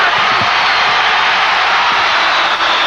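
Crowd cheering in a basketball arena at a 1982 Philadelphia Sixers versus Los Angeles Lakers game, a loud, dense and steady roar of many voices that fills the whole stretch without a break.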